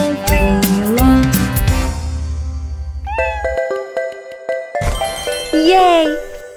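A kitten rescued by a fire truck meows repeatedly and loudly, its cries mixed with jingling chimes and bright musical tones in a children's cartoon setting.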